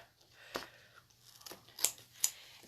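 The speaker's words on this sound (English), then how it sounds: "we're going to cut this part off" Scissors snip through a Chalk Couture transfer sheet in a few quiet, close cuts, with two sharper crisp snips near the end and faint rustling between.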